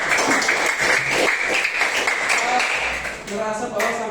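Applause breaks out in a coding training class, a dense wash of clapping running throughout, with a voice speaking over it near the end.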